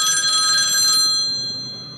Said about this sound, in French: Je reçois un coup de fil de sa mère